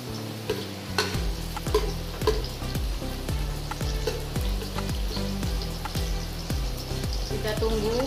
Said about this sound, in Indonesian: Kita goreng bawang merahnya.